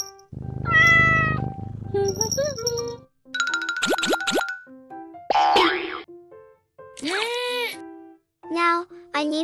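A playful cartoon cat meows several times in short, bright cries, mixed with boing and plop effects and a childlike voice, separated by brief silences.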